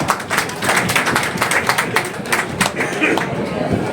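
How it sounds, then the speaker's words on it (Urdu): An audience gives a panel a loud round of applause, with dense, fast clapping from many hands close by that keeps up steadily, along with a few voices in the crowd. "اس کے لیے میں چاہتا ہوں کہ آپ سب لوگ زور سے تالیاں بجائیں"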